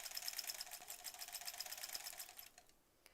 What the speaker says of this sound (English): the wool, the sweater is just feeding through this machine, just easy peasy